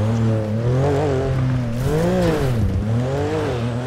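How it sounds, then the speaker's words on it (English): A Lamborghini in the GTA video game pulls away hard, its engine note rising and dipping through gear changes as tires squeal, loud and continuous for the whole stretch. "Lambo takeoff is crazy"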